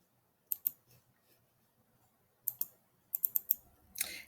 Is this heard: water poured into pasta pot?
no